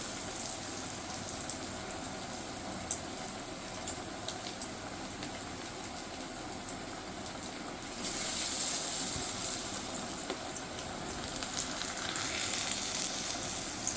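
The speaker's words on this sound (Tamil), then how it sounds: "இப்போ நல்லா வடையெல்லாம் நல்லா பொரிய ஆரம்பிச்சிட்டு" Mutton masala vada deep fry in hot oil with a steady, crackling sizzle that stays even throughout and grows slightly louder partway through, with no talking.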